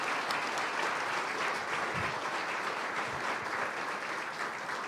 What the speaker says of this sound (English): let's give our student athletes again a warm round of applause